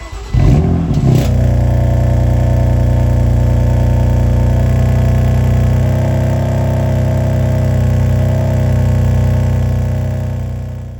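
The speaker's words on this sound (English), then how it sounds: "the first thing that I don't like about my BMW M4 is the way it sounds, especially during those cold starts." A BMW M4 F82 Competition cold-starts with a loud starter crank and burst, then settles into a steady, raspy high idle that hums on continuously before easing off at the end.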